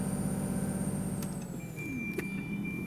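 A Volvo Olympian bus idles in the OMSI 2 driving simulator while its air system builds pressure, giving a steady low engine drone with a thin sustained whine and a couple of faint clicks.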